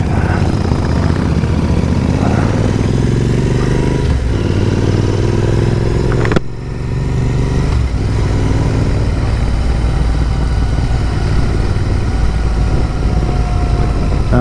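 Several motorcycle engines, including Royal Enfields, rumble steadily together, a continuous loud drone with a brief dip partway through, like a line of bikes riding past in convoy.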